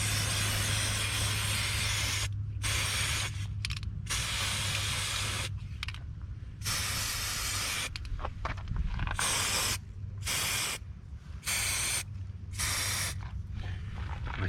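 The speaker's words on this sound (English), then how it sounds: "I spray a little bit heavy" Long bursts of aerosol spray paint hiss loudly in repeated passes, laying a heavy coat, separated by short pauses, close up with a steady low hum underneath.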